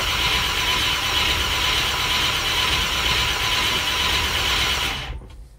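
Land Rover 90 V8 engine cranks over steadily as it tries to start in the cold, a loud continuous churning drone that cuts off abruptly near the end.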